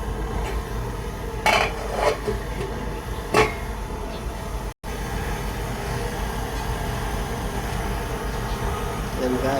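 A metal lid clanks twice onto a cooking pot of sautéed chicken, sharp and close, over a steady kitchen hum and simmering noise.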